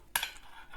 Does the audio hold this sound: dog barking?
no